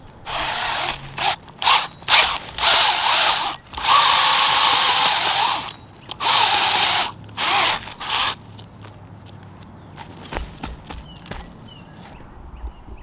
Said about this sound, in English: now I'm going to come in with my big auger, and I'm just going to drill the hoe down.